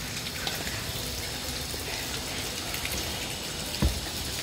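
Light rain falls steadily onto a rooftop that drains into a rainwater-harvesting filter, making a soft continuous patter of drops with one brief louder knock near the end.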